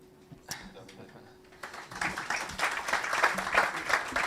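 An audience applauding after a talk, quiet at first with a few claps, then swelling into steady sustained clapping.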